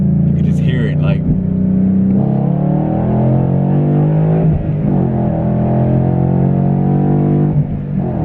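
A truck engine fitted with a PMAS cold air intake, a Lund Engage and a delete and tune revs up and holds, a loud close rumbling roar with shifting pitch under continuous talking.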